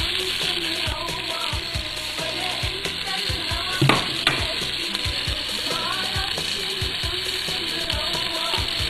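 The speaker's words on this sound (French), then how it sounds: "Je vais faire revenir mes petits oignons." Small onions sizzle in a light layer of neutral oil in a deep pot, a steady close frying hiss broken by occasional utensil knocks and stirring.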